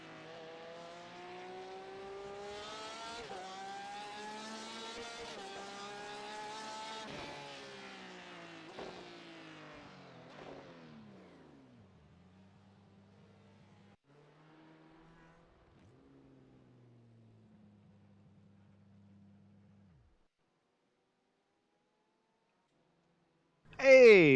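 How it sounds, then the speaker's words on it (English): A race car engine in the iRacing game, practising at Daytona, revs and shifts through gears with rising and falling harmonic whine, gradually settling into lower drones, then silence before a sudden loud burst at the end. "For some reason, my engine noise is way louder right now."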